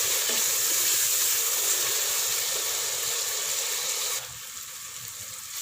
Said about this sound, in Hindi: मैं इसमें ऐड करूँगी टमाटर। इसको अच्छी तरह से भून लेंगे।